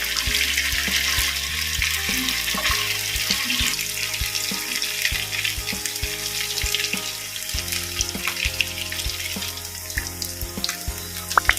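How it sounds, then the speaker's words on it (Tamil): Chicken pieces frying in oil over a low flame, a steady, dense sizzle running nonstop close by, with scattered small pops and clicks and no voices. "சிம் ஃப்ளேம்லேயே வச்சு சிக்கனை நல்லா ஃப்ரை பண்ணுங்கள்"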